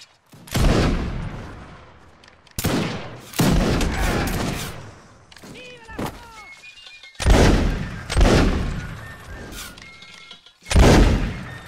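Loud, ragged musket volleys crack out in separate bursts during a line-infantry video game battle, each volley rolling into a short echoing tail. Quieter gaps between the volleys hold faint shouts and voices.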